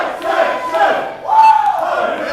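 At a wrestling event, a crowd chants "hype section" in unison, a loud, rising group shout that swells and repeats over about two seconds.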